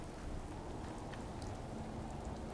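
Rain falls in the video game Fallout 4, a steady, dense hiss of raindrops spread evenly across the clip, soft and continuous with no voices.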